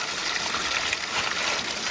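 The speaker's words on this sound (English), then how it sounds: "Drain the water out." Water draining out of a plastic bag of live fish beside a pond, a steady trickling, gushing flow heard close up with no voices.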